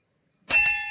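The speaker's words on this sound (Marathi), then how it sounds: "घंटा वाजवून" A metal bell at a Mahadev temple is struck once, a sudden bright clang followed by a sustained ringing tone that fades slowly after a moment of silence.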